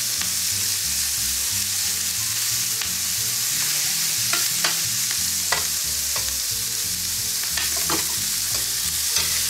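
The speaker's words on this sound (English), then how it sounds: "So let our pork roast here." Pork browns in a hot pan, with a steady, loud, even sizzle and occasional small crackles running throughout, over a faint low background hum.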